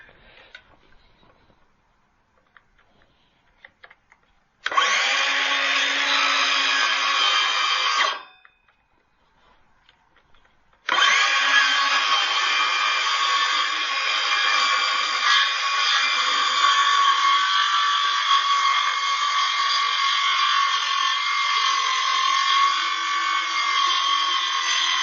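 A power tool cuts into a wooden board while building a vertical planter, starting from the end of the piece: a loud, steady buzzing run, a pause of a few seconds, then a longer continuous cut.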